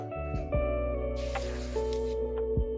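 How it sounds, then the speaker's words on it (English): An airbrush test-sprays metal paint in a brief hissing burst of about a second, set against a steady background hum and a few soft clicks. "Do a little quick test spray."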